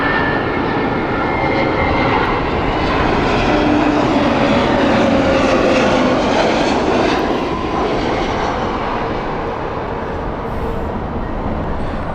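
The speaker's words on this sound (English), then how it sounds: "There was a really low plane, like really low." A low-flying airliner on approach to land at Heathrow on a sunny day roars loudly and steadily for the whole stretch, a broad engine rumble with a faint whine, and no voices.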